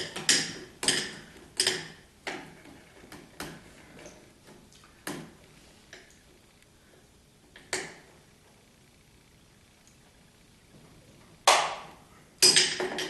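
A wrench loosens the 9/16 bolts on a 1976 Corvette's master cylinder. It makes a run of sharp, rhythmic metallic clicks, then scattered single clicks with quiet gaps between them.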